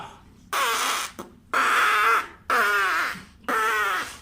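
Four loud, drawn-out farting sounds during a farting challenge, each lasting about half a second to a second with short gaps between them, close and prominent with no talk over them.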